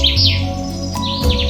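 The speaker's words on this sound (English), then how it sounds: "Kingfisher." Kingfisher call, a series of sharp high sweeping chirps, loud and close, set against a sustained musical backing.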